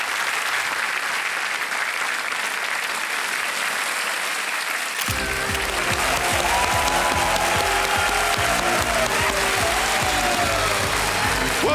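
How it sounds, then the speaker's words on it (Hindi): Sustained, dense applause from a large studio audience at a televised quiz show, steady and loud throughout, with music entering partway and continuing underneath the clapping. "तालियां बज जाए इनके लिए देवियों सज्जनों।"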